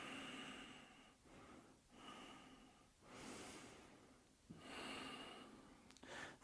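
Long, deep in-breaths during a Taiji exercise, heard as repeated airy inhales a couple of seconds apart, close and soft, with brief pauses between them and no talking.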